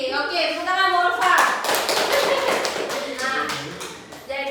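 A classroom group bursts into clapping for a teacher, a brisk, close patter of hands lasting a few seconds, preceded and followed by an adult speaking.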